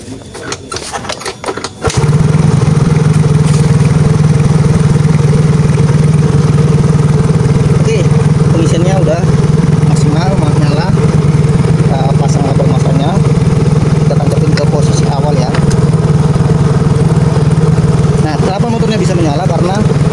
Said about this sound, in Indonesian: Sekarang kita nyalakan motornya dulu.